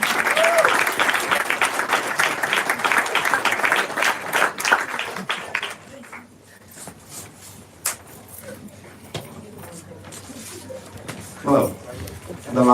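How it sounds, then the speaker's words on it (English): Wedding reception guests give a round of applause for the parents of the couple, a dense clapping wave for several seconds that fades out, followed by quieter room sounds and a voice. "I would say another big round of applause for both the parents."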